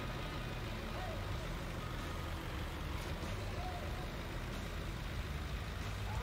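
Heavy truck engine rumbling steadily while driving in Farming Simulator 19, paired with a bulky baler, a constant loud low drone throughout with no pauses.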